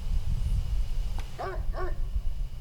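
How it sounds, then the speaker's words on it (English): Two short dog barks, one right after the other, sound in the video game Spirit Hunter: Death Mark over a steady low ambient hum, with no talking. "Why is there a dog?"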